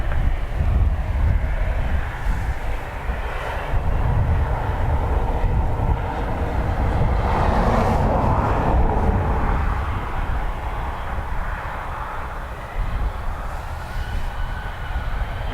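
A jet airliner takes off from runway 10 right at Dublin Airport, a loud, broad roar of engines that swells and holds steady throughout, with no voices.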